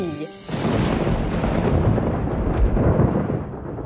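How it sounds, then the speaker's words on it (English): Thunder from an ominous storm, heard as a loud, sustained rumbling roar that swells and rolls on for several seconds after a brief tonal sound at the start. "On the night of the wedding, there is an ominous storm."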